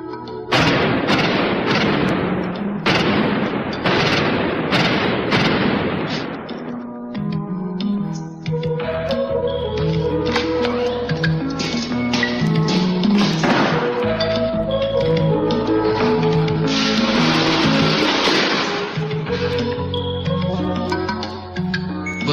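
A 9mm Parabellum pistol fires repeatedly at a target 10 metres away: loud, sharp reports in a quick series, followed by dramatic music swelling underneath.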